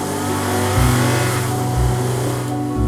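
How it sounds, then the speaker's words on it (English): A car pulls away as a story sound effect, its engine humming steadily and rising in a smooth rev, close and loud with no one speaking. "With his backpack on, Kevin jumps into his car and heads to the caves."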